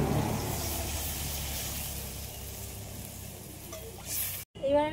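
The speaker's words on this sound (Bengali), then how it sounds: "সব মশলাটা একটু হালকা করে ভেজে নেব, অল্প করে জল দিয়ে দিচ্ছি।" Ground spices fry in a pan for a small-fish curry, making a steady close sizzle and hiss; after a brief cut, water goes in and the sizzle turns to sharper bubbling and spitting.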